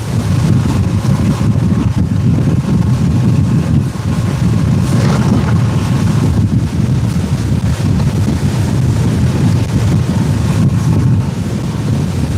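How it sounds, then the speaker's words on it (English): Wind blowing on a sportfishing boat out at sea, a loud, constant rumbling roar and microphone buffeting that lasts the whole time, with water wash beneath and no talking. "I hope this wind dies down before tomorrow."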